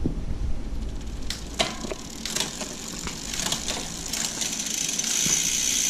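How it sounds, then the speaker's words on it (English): A bicycle's rear derailleur clicks through the cassette gears as the drivetrain spins, with a steady freewheel whir and a series of distinct shifting ticks and chain clatters up close. "Now what I'll do is I'll run through the gears again"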